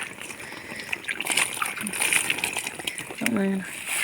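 Water overflows and spills out of a lotus pot with soft splashing and trickling, heard faintly beneath a person talking nearby.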